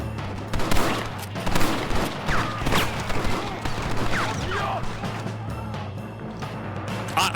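Rapid, dense gunfire from a Red Dead Redemption 2 shootout crackles almost without pause, loud and close, with overlapping shots and bursts throughout.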